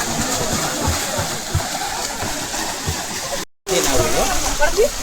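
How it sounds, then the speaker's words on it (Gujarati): Steady rushing of the Jatashankar Mahadev stream on Girnar near Junagadh, a dense wash of flowing water that fills the whole clip, cut by one brief gap near the end. "આ જટાશંકર મહાદેવ ઝરણા છે, જે નદી પાણી વહેતું પાણી છે"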